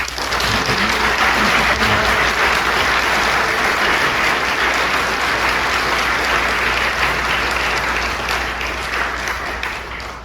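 An audience applauds to welcome a speaker to a community talk on Willamette Valley history, with dense, loud, sustained clapping that fades slightly near the end.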